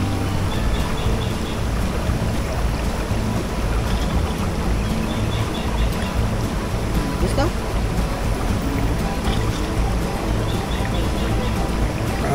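A natural river flows near Paeng Falls at Tikub Lake with a steady, rushing wash. A person speaks briefly over it. No birdcalls stand out.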